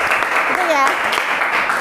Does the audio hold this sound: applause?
yes